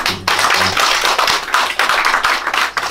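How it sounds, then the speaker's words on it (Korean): Audience at a year-end Korean poetry recital claps in congratulation for an award, a loud close burst of many hands with slightly uneven rhythm, beginning right after a brief word. "크게 박수 한번 좀"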